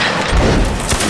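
Musket volley from a regiment's double battle line in the Napoleonic Wars game Mount & Blade, a dense burst of overlapping shots that rumbles and crackles for about a second, loud and close.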